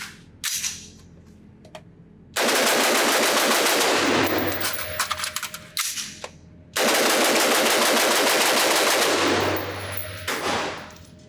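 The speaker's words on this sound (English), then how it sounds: "now let's see if I can shoot this gun fast" An HK MR27 rifle fires rapidly at an outdoor range in two long, loud, continuous bursts separated by a short pause, with a few isolated shots and clicks at the start and ringing echoes as each burst ends.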